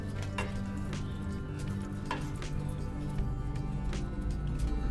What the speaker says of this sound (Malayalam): ഇനി നന്നായിട്ടൊന്ന് ഇളക്കി ഫ്ലെയിം ഓഫ് ചെയ്യാം.